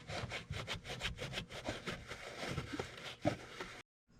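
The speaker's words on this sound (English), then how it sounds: "Now I'm just gonna grab a shop rag, clean that up because there's a little oil on it" A shop rag wipes oil off an engine part during a catch can install on a 6.7 Powerstroke diesel, with quick, rough rubbing strokes close by that stop abruptly into silence.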